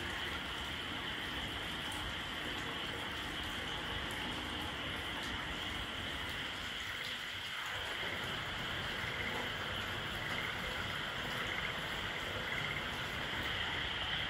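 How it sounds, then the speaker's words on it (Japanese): At night, frogs call together in a dense, continuous chorus from rice paddies along a river near Kurokawa hot springs in Japan, a steady, moderately distant hum of croaking without any talking. "カエルの合唱"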